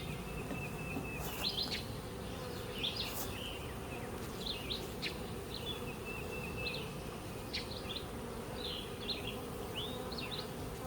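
Honey bee colony humming in an open beehive, a dense steady buzz close up throughout, with birds chirping intermittently in the background.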